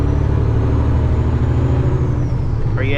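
Loud semi truck engine drones steadily close by while driving a rough back road, a deep continuous rumble with a brief whine near the end, no talking.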